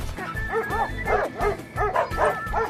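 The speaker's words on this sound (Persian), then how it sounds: "ای لبن خلاصم کن وگرنه سگ مرا میخورد" A dog barks and yips in a quick repeated series of sharp, close calls, about seven in under three seconds, with a faint whimpering edge.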